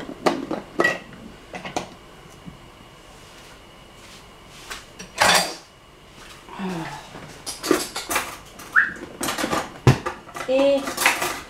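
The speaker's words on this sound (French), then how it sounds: "Je vais prendre une cuillère." A spoon and dishes being handled while making a tuna flan, with a series of close clinks, clatters and scrapes of cutlery and crockery separated by brief pauses, and a few short voice sounds among them.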